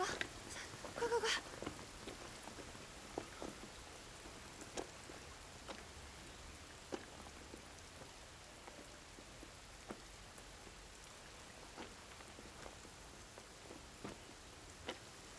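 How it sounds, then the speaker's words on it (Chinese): Rain falls outdoors as a faint, steady hiss, with scattered individual drops ticking at irregular intervals and a few louder splashes at the start. "下雨了，快快快！"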